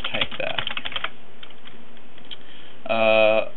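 Rapid, crisp clicks of fingers typing on a computer keyboard sound close by in a burst, then sparse keystrokes follow, with a short spoken voice near the end.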